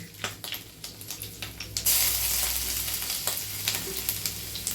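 Ginger and garlic paste sizzles in a pan for dal tadka, a continuous close fry with repeated stirring scrapes and a sudden louder burst of sizzle partway through.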